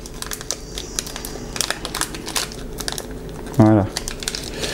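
A Pokémon trading card booster pack crinkles and is torn open by hand once near the end, a short loud rip standing out above low background noise and faint clicking.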